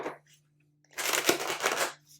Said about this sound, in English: I want to shuffle my Oracle deck again